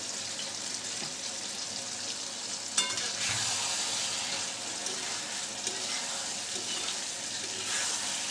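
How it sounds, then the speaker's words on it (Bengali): Green chillies and onion stalks frying in a pan for a tomato and egg scramble, a steady close sizzle with a brief clink of a spoon partway, no talk. "দিচ্ছি কাঁচামরিচ আর দিয়ে দিচ্ছি পেঁয়াজ কলি"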